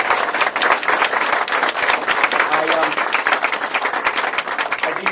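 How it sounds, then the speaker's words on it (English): A crowd applauds loudly and steadily at a political campaign kickoff, dense clapping filling the space with a few voices mixed in. "So give yourselves a big round of applause."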